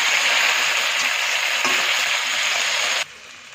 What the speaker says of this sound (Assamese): এইখিনি এতিয়া মই 20 মিনিটমান ভাজিম